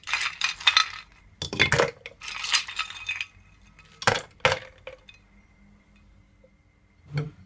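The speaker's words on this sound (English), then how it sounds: "This is the fun part. I'm gonna add my ice." Ice cubes dropped into a glass for a mint and strawberry mocktail, several loud, close clinks and rattles in quick clusters, then a last knock after a pause.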